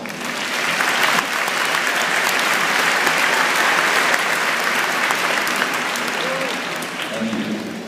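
A room full of people claps steadily at a valedictorian's speech, the dense applause sustained and fairly loud throughout, tapering slightly near the end.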